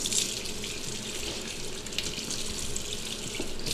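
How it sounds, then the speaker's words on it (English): Cold tap water runs over a sweet potato being washed, a steady hissing splash into a sink with small shifts as the vegetable is turned under the stream. "we must wash it off with cold water."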